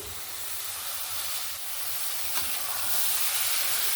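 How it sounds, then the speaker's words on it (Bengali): Chopped onion greens hit hot masala that has been fried down until the oil separates, giving a steady close sizzle and hiss of frying that swells slightly louder toward the end, with no voices. "এবার আমি কেটে রাখা পেঁয়াজ কলিগুলো দিয়ে দেব"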